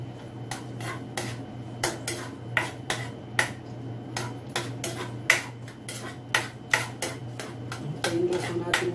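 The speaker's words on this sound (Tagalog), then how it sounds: "Igisa na po natin ang ating bawang." Garlic sautés in a hot pan for spicy adobo chicken feet while a utensil scrapes and taps against the pan in quick, irregular clicks over a steady low hum.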